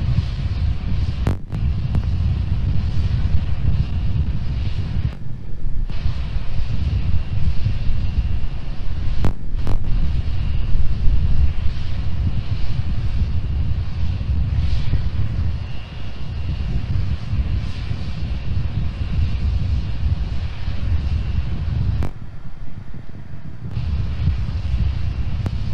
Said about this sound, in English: Starship now climbing on the power of engine number 1, headed to the 10 kilometer altitude